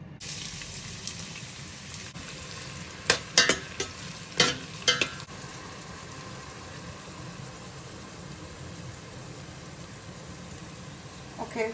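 Chopped red onions go into hot rapeseed oil in a pot for a peppered meat stew with black-eyed beans, giving a steady low sizzle with a few sharp clattering stirs and scrapes near the start.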